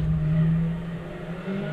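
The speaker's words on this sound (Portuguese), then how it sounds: "O som do carro é muito legal, o som da Ferrari." Ferrari race car engine in rFactor 2, a loud steady low drone that swells briefly then holds at a sustained rev, heard alone with no talk.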